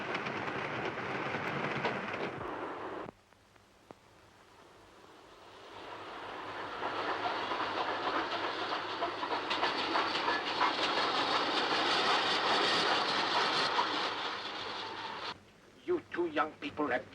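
A train running along rails in a 1932 setting, steady rattling clatter building and holding loud across the middle, with voices talking before and after.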